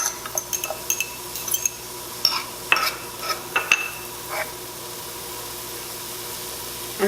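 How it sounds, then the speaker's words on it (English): Onions and ramps dropped into melted butter in a pan give a steady close sizzle, with scattered clinks and scrapes of stirring over the first few seconds, then a quieter even frying hiss. "Now we've got our butter melting there. I'm going to put in our onions."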